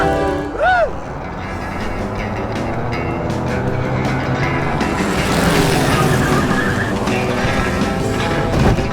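A car driving in Grim Fandango Remastered, a steady loud engine roar sustained throughout and swelling slightly toward the end, with a brief squeal early on.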